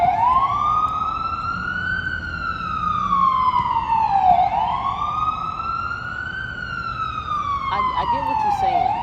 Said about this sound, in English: But it's another siren.